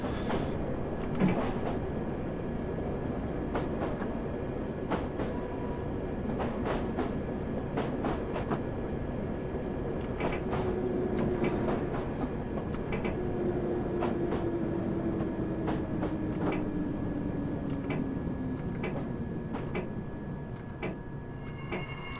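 A London Underground D78 Stock train climbs a steep gradient at full power in Train Simulator 2018, its traction motor whine rising and falling under a steady rumble, with repeated rhythmic clicks of wheels over rail joints.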